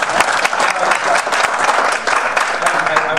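Loud, close applause from a crowd at a political appearance by a senator, dense continuous clapping throughout a few seconds with no talk over it.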